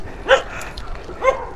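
A dog barks twice, about a second apart, beside a rough gravel road on a trail near Silang, moderately close and short.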